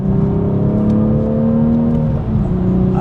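A Toyota GR Supra Final Edition with a manual gearbox drones steadily at cruising revs from inside the cabin, loud and continuous, with a brief dip near the end as if easing off or shifting.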